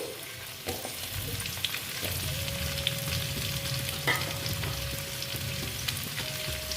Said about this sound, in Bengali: দেখো আলুর সঙ্গে কুমড়োটাকে ভেজে নিচ্ছি